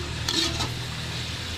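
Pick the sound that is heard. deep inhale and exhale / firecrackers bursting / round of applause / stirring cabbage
stirring cabbage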